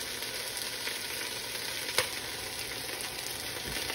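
Chicken adobo broth bubbling in a pan, giving a steady sizzling hiss with a faint soft clink partway through, continuous and close with no talking.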